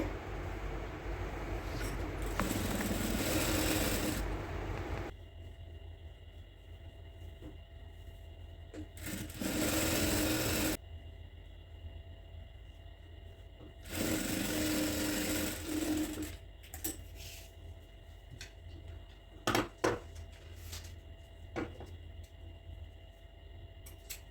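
Sewing machine stitching a cloth shopping bag, several bursts of steady whirring several seconds long separated by quiet pauses with small clicks and handling sounds, close and moderately loud, no talking.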